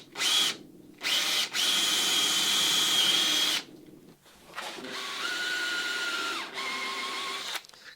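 A power drill turning a lead-screw auger bit through wood for a long straight hole in a wooden boat, running in loud sustained bursts with short pauses, the motor pitch dropping under load.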